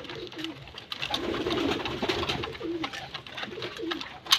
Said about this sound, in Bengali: ছটফট করছে প্রচুর খাওয়ার জন্য পায়রাগুলো